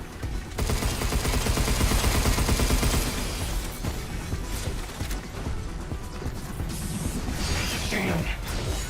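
Loud, sustained video game gunfire with rapid bursts and metallic clatter as bullets strike an armored bot, dense and continuous throughout without any pauses.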